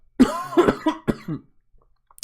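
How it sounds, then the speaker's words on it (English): A person coughs several times in a quick, harsh burst, up close, followed by quiet. "Sorry about the coughing"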